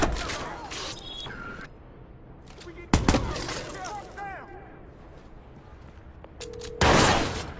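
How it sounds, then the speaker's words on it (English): Bursts of gunfire at the docks in Watch Dogs, sharp loud cracks at about three and seven seconds with scattered shots and clatter between, mixed with game sounds. "There's a big shooting going on"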